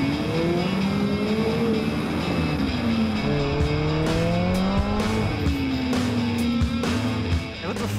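A McLaren 675LT Spider drives in Track mode, its engine note rising and falling through several revs and gear changes with a steady, loud roar close by and occasional tire noise, with no talking.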